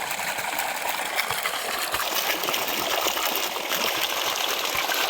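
Irrigation water runs steadily through an earthen channel in a farm grove, a continuous gushing and trickling flow heard close and alone, with no voices.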